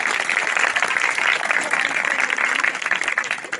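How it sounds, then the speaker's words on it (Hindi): A church audience at an outdoor tent meeting in Pakistan claps loudly and steadily, a dense, sustained wash of applause filling the whole stretch without letup. "जोर से अब ताली बजाएं जरा।"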